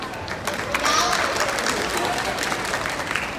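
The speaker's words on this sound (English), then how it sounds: "let's give her another round of applause" A crowd applauds steadily for several seconds at a dance event at Ala Moana Center, Hawaii, a dense wash of clapping at even loudness throughout.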